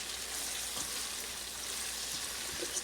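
Finely chopped ginger and garlic fry in a pan over a low flame while cooking masoor dal, a faint, steady, crackling sizzle with no talking.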